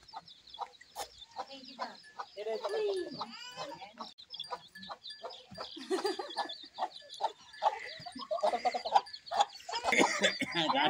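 A village hen and her newly hatched chicks cluck and peep near and busily with constant overlapping calls throughout, along with other farmyard noises.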